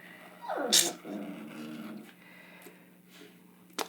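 A dog lets out a single short, sharp bark-like yelp at close range indoors, followed by a low growling grumble and quiet room noise.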